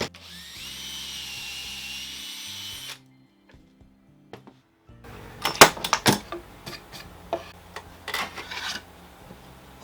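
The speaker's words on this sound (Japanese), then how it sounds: "これに穴を開けてみます。" A drill bores a 6 mm hole in a 12 mm board held in a 999-yen drill guide fitted with a fence: a steady motor whine for about three seconds, a near-silent pause, then loud rasping, clattering bursts up close.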